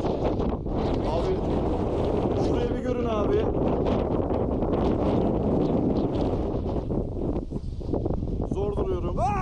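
Strong wind buffeting the microphone on the rocky summit of Çataldağ, a constant roaring rush under a voice as he talks and moves about.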